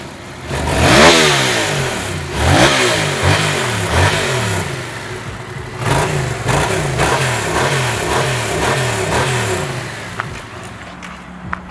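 A used big bike fitted with an aftermarket exhaust revs hard over and over, each loud, rising roar dropping back to a rough idle between blips, close and dominant throughout.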